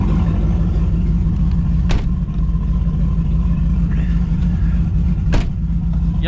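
A Pontiac G8 GT with an exhaust leak runs with a steady, loud, low engine rumble close by, holding an even drone with a couple of brief sharper ticks over it.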